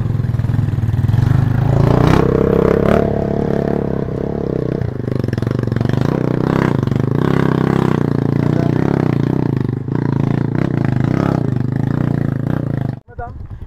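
A motorcycle engine roars and strains continuously while struggling through thick mud, revving hard with wavering pitch, then cutting off abruptly near the end; voices are heard alongside.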